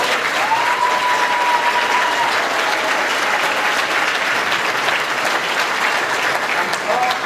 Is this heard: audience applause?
yes